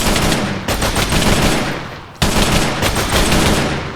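Rapid, dense video-game gunfire roars loud and continuous, a nonstop fusillade with a brief dip midway before the burst resumes.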